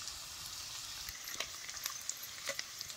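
Spices fry in oil in a pan on a wood-fired village stove as part of a dry mutton sukka masala. The sizzle is steady and close, with light scraping clicks from stirring and no voices.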